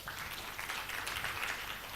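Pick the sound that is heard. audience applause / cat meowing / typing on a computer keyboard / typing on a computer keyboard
audience applause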